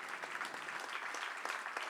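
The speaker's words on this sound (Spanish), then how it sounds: "con un aplauso enorme" An audience at a Spanish-speaking gathering claps for a guest asked to stand, a soft, steady wash of many hands heard faintly from a distance.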